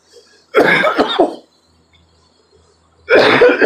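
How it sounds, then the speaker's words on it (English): Two harsh, raspy coughing bursts from a person vaping with a sub-ohm tank, close and loud, the first a cluster of hacks, separated by a short quiet pause. "I've still got a bit of a cough up to do because my lungs are getting used to the heat again"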